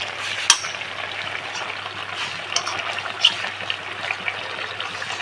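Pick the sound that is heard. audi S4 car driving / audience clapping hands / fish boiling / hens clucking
fish boiling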